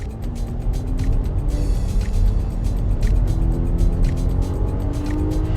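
A 2024 Porsche Cayenne E-Hybrid, its V6 backed by electric motors, accelerates hard, the engine note rising steadily through rising harmonics with a brief dip at a shift, heard from inside at a strong, even level.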